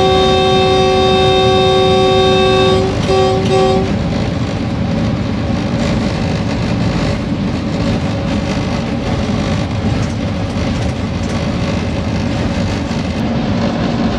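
A Pakistan Railways locomotive runs near Lahore with a steady, loud rumbling roar, opening with a long sustained horn blast that breaks off briefly and sounds once more before the engine and wheel noise carry on alone.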